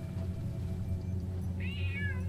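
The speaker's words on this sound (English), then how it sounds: "Oh, it's the cat!" A magic cat in the Alice in Wonderland video game by Guillermo del Toro lets out a single clear meow late in the moment, rising then falling, over a low steady game background hum.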